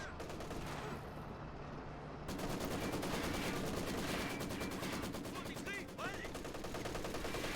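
Rapid gunfire crackles through a busy Company of Heroes 2 battle, with repeated sharp bursts and a dense mix of other battlefield noise at steady loudness, while a voice speaks over it.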